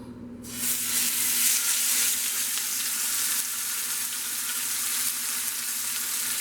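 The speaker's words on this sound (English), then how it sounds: "we're gonna take it to the pan that we had that's already getting hot, so we can sear it all around" A bacon-wrapped, spinach-stuffed pork loin hits a hot pan and sears with a loud, continuous sizzle that flares up at once and then holds steady, close by, with no talk.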